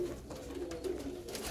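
A domestic pigeon coos softly from close by in a backyard loft, a low throaty murmur running steadily through the whole moment amid faint outdoor rustle and no talking.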